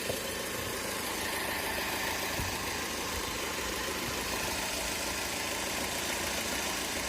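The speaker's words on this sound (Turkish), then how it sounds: "motorda bir kırtı geliyor" A Fiat Marea engine idles with a knocking noise, a steady close mechanical rumble running continuously without a break.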